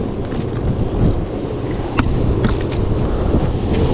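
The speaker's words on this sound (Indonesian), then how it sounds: "Lumayan kencang anginnya" Strong wind buffets the microphone out at sea on a fishing boat, a loud continuous rush with a few faint clicks and thumps.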